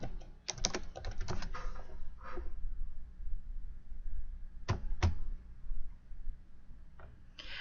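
A quick burst of keystrokes on a computer keyboard as a name is typed, then a pause and two distinct clicks, all quiet and close.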